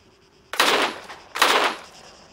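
AK-107 rifle firing in the Arma 3 battle royale game, two loud sharp bursts of rapid shots in quick succession, each trailing off in an echoing decay, with no talking.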